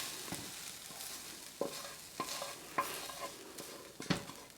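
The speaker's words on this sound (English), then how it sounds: "So from here, I'm going to go ahead and pull my onions off." Cooked onions are scraped and lifted off a hot pan with a utensil, giving several sharp clacks and scrapes spaced about a second apart over a faint, quiet sizzle.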